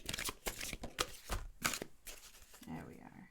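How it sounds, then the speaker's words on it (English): Tarot cards pulled from a deck and shuffled, giving quick papery riffles and flicks, close and fairly quiet, with a few soft knocks and brief talk mixed in. "I just had to pull these cards out here"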